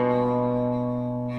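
Electric guitar plays a country lick, a minor third bent or slid up to the major third, ringing as a sustained, twangy tone that fades before a brief pluck at the end.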